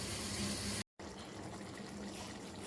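Water pours into a chicken karahi pot as a steady gushing flow, broken by a brief cut near the start and then continuing evenly with no talking.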